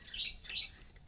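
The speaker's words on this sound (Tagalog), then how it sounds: "Yung huni ng ibon" Faint, high bird chirps repeat a few times in quick succession against a quiet outdoor background.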